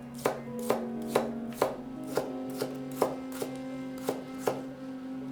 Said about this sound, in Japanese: 薄くスライスしたらまたこれを、細切りにしていきます